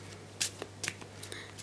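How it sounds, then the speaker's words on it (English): A few soft, brief swishes and slaps of cards being shuffled by hand, close up and quiet, with short pauses between them. "so we'll give it a bit of shuffle"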